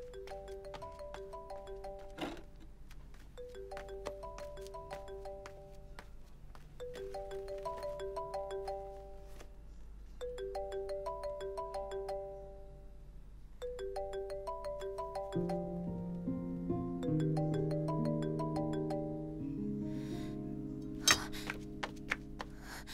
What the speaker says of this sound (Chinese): 你手机响了